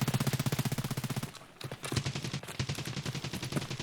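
Rapid full-auto gunfire in a first-person shooter game, loud sustained bursts of evenly spaced shots, a brief pause, then heavy shooting resumes and continues.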